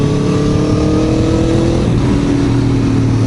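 Aprilia Tuono Factory V4 1100 motorcycle accelerates under the rider, its V4 engine a loud, continuous droning note whose pitch climbs steadily and then settles into a higher tone, close and unbroken, with no voices.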